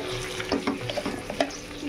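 Chili chicken cooks in a pan, with a soft sizzle under repeated scraping and clacking strokes of a spoon being stirred. The sound is close and moderately loud over a couple of seconds, and no one speaks.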